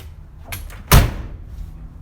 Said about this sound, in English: You hear that door slam.